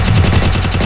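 Gunfire in a shooting video game scoring a headshot, a loud dense burst of rapid shots filling the whole short moment.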